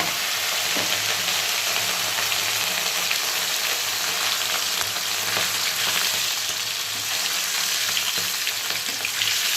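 Hilsa fish frying in hot oil gives a steady, dense sizzle close by, with a few soft clinks and no talking.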